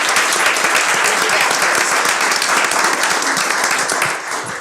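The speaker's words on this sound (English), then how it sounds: "let's give them a round of applause" A school board meeting audience gives a robotics team a round of applause, dense steady clapping from many hands that tapers slightly at the end.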